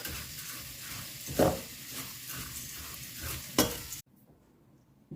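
Steady sizzling of food frying in a pan while browning for Transcarpathian perkelt, with a couple of sharp scraping stirs, then the sizzle cuts off abruptly.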